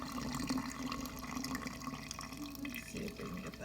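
Water poured into a bowl of sourdough mix in a home kitchen, a close, continuous splashing trickle with a brief dip in flow partway through.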